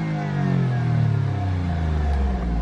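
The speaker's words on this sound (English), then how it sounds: "a couple of more quick blips in race mode" A Alfa Romeo Giulia Quadrifoglio engine revs hard in race mode, a loud, close, sustained rising blip with deep rumbling exhaust tone and no talking.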